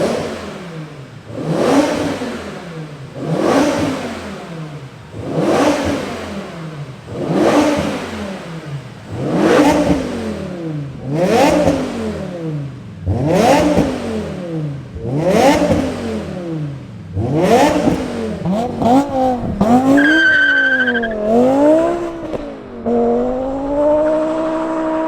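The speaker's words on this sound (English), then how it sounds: "I can't wait to hear what this sounds like through that Akrapovic exhaust." A 570 hp BMW E92 M3 swapped with an S85 V10 and fitted with an Akrapovic exhaust revs hard again and again, about ten rising-and-falling blips in steady rhythm, loud and close, ending in a higher sustained rev with a whining note.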